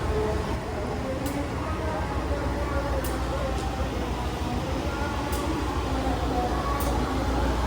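A train locomotive shunting to couple onto different carriages on a new railway line in West Sumatra, a steady rumbling engine drone with metallic clanks, heard up close while people talk over it.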